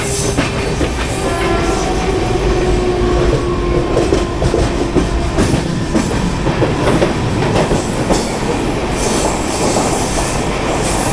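Loud, steady rumble of the Garib Rath Express moving along rails, with rhythmic wheel clatter and occasional squealing, close by and continuous.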